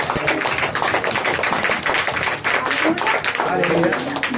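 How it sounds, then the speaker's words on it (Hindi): Congregation clapping loudly during a Sunday church service in India, a dense continuous patter of many hands with voices mixed in throughout. "जोर से परमेश्वर के उपस्थिति में ताली बजाएंगे।"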